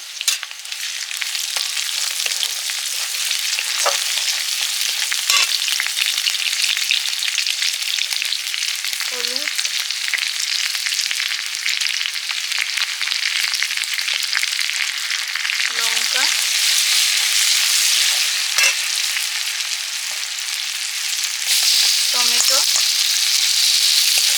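Spices with green chilli and ginger fry in a pan for a potato and meat curry, a loud, constant close sizzle with a few scattered scrapes and clinks of the stirring spoon, and no talking.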